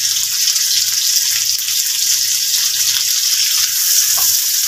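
Onions frying in hot oil: steady bright hiss runs through the whole clip, loud and close, with a faint low hum underneath and no voices.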